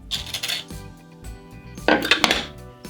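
Fresh ginger scraped against a hard, ceramic-like shark skin grater, giving rough rasping strokes with brief louder bursts of scraping and clinks, close and with no talk.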